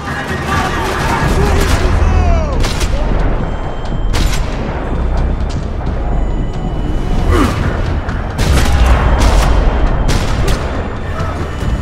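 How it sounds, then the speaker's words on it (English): Rapid bursts of gunfire from Max Payne 3 crackle and boom continuously in a parking lot, with sharp individual shots standing out against a dense background of battle noise. "Another parking lot rattling with gunfire."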